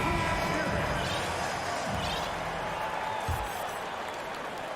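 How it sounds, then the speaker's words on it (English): Steady crowd applause and cheering from a large arena in the basketball video game NBA 2K23, Celtics versus Timberwolves, continuous and fairly loud, with faint sneaker squeaks and an announcer's voice mixed in. "Please give a big round of applause for your Celtics."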